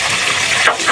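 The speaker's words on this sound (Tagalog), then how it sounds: "nirelease na natin yung tubig" Water gushes hard and close out of a drained water boiler in a loud, continuous rushing spray for about a second.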